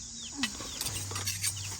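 Chickens and other farmyard fowl cluck in short bursts at a rural Thai farm, with a low steady hum running underneath and no voices.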